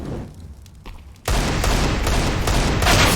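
Rapid gunfire erupts in a Counter-Strike esports match, a few scattered shots at first and then a dense, loud burst of overlapping rifle fire that continues unbroken to the end.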